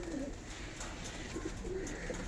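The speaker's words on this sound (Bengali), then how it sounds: "এই যে আমার আরেকটা ভাইরাল পায়রা" A pet pigeon coos softly a few times, low and rounded, against a steady background hiss with no talking.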